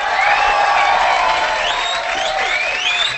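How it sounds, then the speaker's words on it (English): An audience at a Grammys event with Steve Aoki and Kaskade breaks into sustained applause and cheering, a dense wash of clapping and whoops that stays loud and even throughout. "One more round of applause, please."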